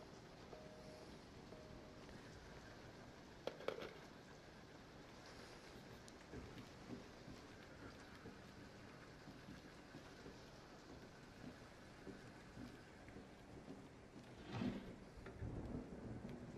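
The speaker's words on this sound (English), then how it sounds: "Oh, it had to be thunder and lightning and all, didn't it?" Thunder and steady rain in the horror game Resident Evil 7: a constant wash of rainfall with low rumbling rolls of thunder, a couple of louder cracks standing out, fairly faint overall.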